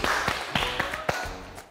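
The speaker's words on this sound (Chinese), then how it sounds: "给自己一个掌声，鼓励鼓励。" A handful of scattered hand claps, about five sharp slaps spread unevenly over under two seconds, given as self-applause after a breathing exercise during a TV fitness segment.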